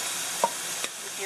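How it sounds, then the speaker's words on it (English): Empanada filling sizzles in a hot pan over high to medium heat, a steady close frying hiss with a couple of brief scrape or stir taps and no talking. "You hear it sizzle."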